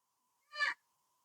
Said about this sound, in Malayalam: തത്തമ്മ തന്നെ വിളിക്കുന്നു.